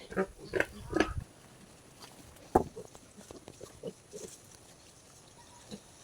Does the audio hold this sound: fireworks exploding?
no